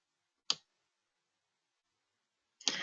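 Two sharp, isolated mouse clicks on a resend button, the first crisp and brief, the second arriving about two seconds later, with near silence between them.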